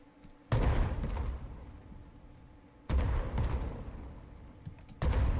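Ship cannon fire in the video game Worlds Adrift: three loud, booming blasts spaced a couple of seconds apart, each followed by a lingering rumbling tail, with a steady low hum underneath.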